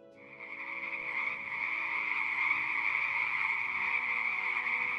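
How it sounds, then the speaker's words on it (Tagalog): A dense, continuous chorus of many frogs croaking together, rising quickly and then holding a steady, fairly loud level with no voices over it. "nagpadala ang Diyos ng napakaraming palaka"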